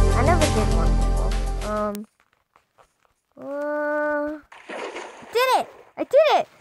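A Minecraft water bucket poured out in the video game gives a brief splash near the end, among short tonal game sounds and a burst of music at the start, with voice-like sounds mixed in.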